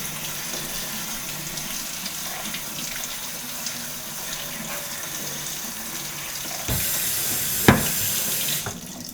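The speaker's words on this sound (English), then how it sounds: "we're just going to rinse them" Water runs steadily from a tap to rinse bean sprouts in a SproutMaster sprouter, a constant close splashing stream that grows louder and gushier near the end.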